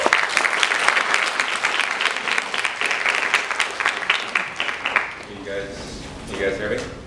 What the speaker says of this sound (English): please give it up for Mr. Evert Zelaya